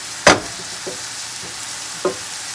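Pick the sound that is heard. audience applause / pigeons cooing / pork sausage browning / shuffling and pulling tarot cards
pork sausage browning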